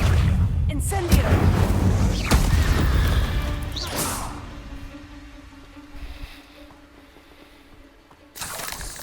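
An Incendio fire spell is cast in an Xbox Harry Potter game: a loud crashing whoosh and burst near the start, then a lower rumbling swirl that fades before a final sharp hit at the end.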